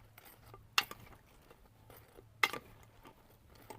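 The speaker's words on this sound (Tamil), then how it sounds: "நல்லா மிக்ஸ் பண்ணி விட்டுக்கணும்." A spoon clinks twice against a bowl while thayir vadai is mixed into curd, two sharp, faint metallic taps in an otherwise quiet kitchen.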